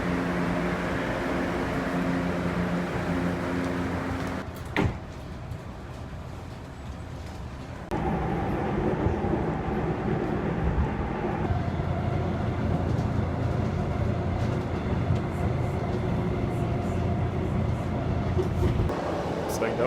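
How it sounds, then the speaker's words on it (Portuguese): São Paulo metro train riding between lines, a steady rumbling drone of wheels and motors inside the carriage, with a sharp clack midway and a shift in tone as the ride continues. "Saindo agora da primeira linha do metrô"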